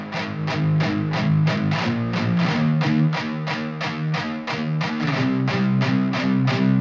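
A heavily distorted electric guitar with its EQ bypassed plays a driving, palm-muted riff with steady repeated chugs, loud, thick and continuous throughout, no voices.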